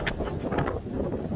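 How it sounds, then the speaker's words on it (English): Strong wind buffets the microphone outdoors, a continuous loud rumbling roar that never lets up across the whole moment, with no clear talking. "It's too windy, they're not going to be able to hear the thing I'm saying because it's too windy."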